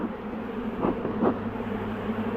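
Honey bees buzzing around an opened double brood hive being split in an apiary, a steady low drone with a couple of brief louder swells as bees fly close.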